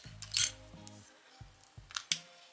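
Scissors snip crochet yarn at close range, giving a few short, quiet clicks and rustles against a near-silent background.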